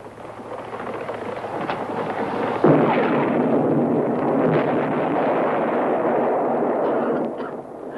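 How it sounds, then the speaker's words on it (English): Cave explosions from a 1964 horror film thunder through the space. A deep rumbling boom lands suddenly partway through and then rolls on as a long, dense reverberating roar before fading, with no speech over it. "Uncle Andre, I'm scared of explosions."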